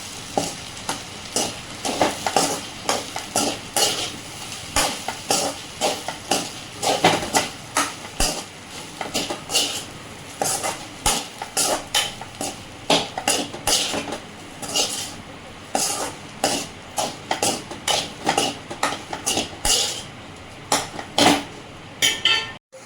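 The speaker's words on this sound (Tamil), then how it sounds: "நல்லா கிளறி விட்டுக்கலாம்." A spoon scraping and clinking against a pan while egg rice is stirred, rhythmic repeated strokes with a soft sizzle of frying underneath, close and fairly loud, continuing for the whole stretch.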